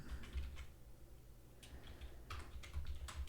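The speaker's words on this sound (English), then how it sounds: "I'm just typing the document" Computer keyboard typing while a document is transcribed, quiet irregular bursts of keystrokes clustered in short runs with brief pauses, close by and alone without speech.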